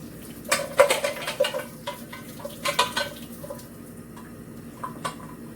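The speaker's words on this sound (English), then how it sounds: "So I'm going to discard this water." Boiling water from a pot of pig feet for souse is poured off and drained, splashing in irregular bursts with quieter trickling between, close and moderately loud, with no voices.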